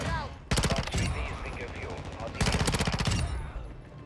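Rapid automatic bursts from a P90 (PDSW 528) submachine gun in the video game Modern Warfare 2, two loud sustained volleys of tightly spaced shots with a lull of game noise between them.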